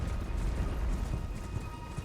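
A horse gallops in Elden Ring on the Palace Approach Ledge-Road, its rapid rhythmic hoofbeats steady and fairly close throughout, with no talking.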